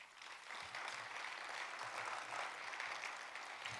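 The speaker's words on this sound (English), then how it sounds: "Give them a round of applause." An audience at the Michigan Economic Outlook event breaks into steady, moderately loud applause, a dense wash of clapping hands that holds throughout.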